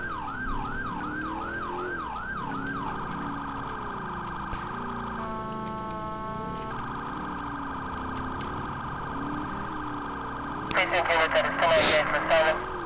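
A police car siren in the GTA IV LCPDFR video game, first a fast rising yelp, then a short steady horn-like tone, then a continuous wail under constant engine noise, with a voice talking over it.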